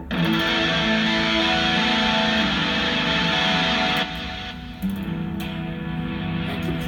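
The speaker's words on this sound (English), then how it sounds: "Or I can add chorusing." Sustained electric guitar chords from an EVH Wolfgang guitar through a Line 6 M13 chorus effect, shimmering and warbling, ringing out loudly, briefly dropping before another strum.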